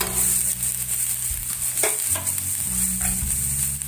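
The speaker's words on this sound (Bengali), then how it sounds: "পেঁয়াজটা দেখো আমার হালকা গোল্ডেন করে ভাজা হয়ে গেছে" Onions fry to a light golden in a pan with a continuous sizzle while a spoon stirs them, adding several scraping strokes and soft knocks. It sounds close and steady with no voices.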